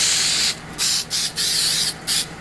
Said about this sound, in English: we're using the 3M Super Cement, just a spray on adhesive